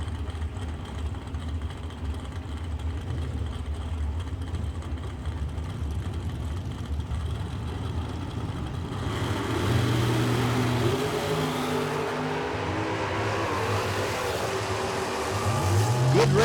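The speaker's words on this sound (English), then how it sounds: "Good race here with the dragster of Kimbler winning it." A drag racing dragster roars down the strip at a drag meet, a loud sustained engine drone that swells and rises in pitch as it accelerates away.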